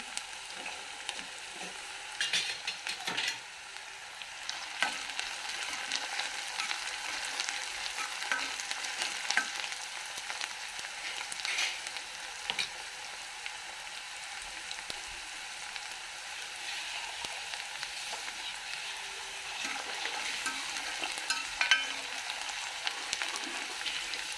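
Onion and green garlic sautéing in a pan give a soft, steady sizzle with scattered crackles and occasional stirring scrapes, even and moderately quiet throughout.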